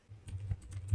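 Computer keyboard typing heard close up: a short, quick run of soft key clicks lasting about a second.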